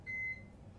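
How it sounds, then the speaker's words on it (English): A single short, steady electronic alarm beep from an ATOM Radiant infant warmer sounds once, then fades into a low background hum. "And that is our alarm"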